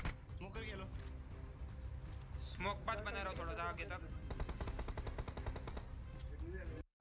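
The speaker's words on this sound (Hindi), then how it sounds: "आगे से और गोलियों की आवाज आ चुकी है," Rapid automatic gunfire bursts crackle through a battle royale video game match, repeated volleys at moderate distance under continuous commentary from a player speaking throughout.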